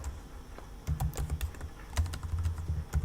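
Keys clatter on a computer keyboard as a Linux command is typed, a quick irregular run of close, crisp clicks and taps in bursts with short pauses.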